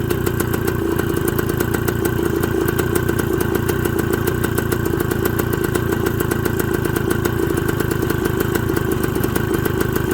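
A Suzuki TS125 motorcycle engine idles steadily and loudly up close during an idle-screw adjustment, giving a continuous buzzing, clattery single-cylinder putter that runs the whole time with no speech.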